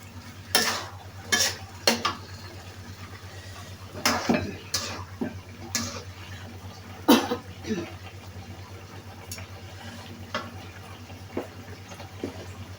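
Cooked mushroom, carrot and pak choi are stirred in a pan, with a spoon scraping and clinking against the metal in irregular bursts over a low steady hum.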